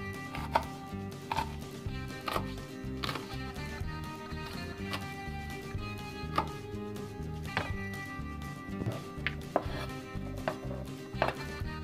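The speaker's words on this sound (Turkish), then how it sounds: "Şimdi biberlerimizi doğruyoruz. Acı biberlerimizi. Bunları minik minik doğruyoruz." Hot peppers are chopped finely with a knife for a red tomato pickle, giving rapid, uneven knife taps against a cutting board, close and continuous.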